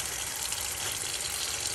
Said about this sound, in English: I put it in some warm water. And I rinse it like twice.